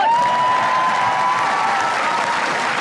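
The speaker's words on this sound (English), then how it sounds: "Oh, come on, give them a clap." A TV studio audience on a comedy panel show applauds, a loud, even wall of clapping with a brief whistle or cheer at the start, sustained for the whole few seconds.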